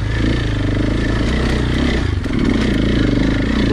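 Heavily loaded dirt bike ridden off-road with luggage packed on, engine droning loud and close with a steady mid-pitched rumble and clattering, rising slightly near the end.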